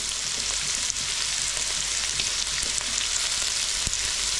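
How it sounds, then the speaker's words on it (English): A sizzling sweet and sour tofu sauce bubbles in a pan as cornstarch is stirred in, a dense, loud, even frying hiss with faint stirring clicks and no speech. "just stir that corn flour, cornstarch into that mixture."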